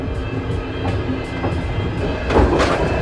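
A coal-heated passenger train bound for Kazakhstan runs on its rails, a steady close rumble with faint rhythmic clicks, heard from inside the carriage and swelling louder near the end.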